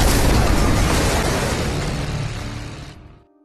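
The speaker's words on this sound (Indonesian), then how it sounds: "tiba-tiba ledakan bom terjadi." A bomb explosion in an action film: a loud, deep blast that rumbles and slowly decays over about three seconds before cutting off abruptly into silence.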